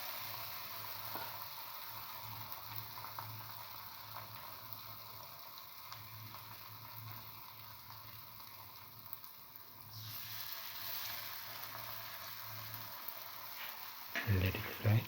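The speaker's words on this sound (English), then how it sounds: "And let it fry." Jackfruit and wheat flour fritters fry in hot oil with a steady, close sizzle and crackle, bubbling more intensely near the end as something is stirred or added.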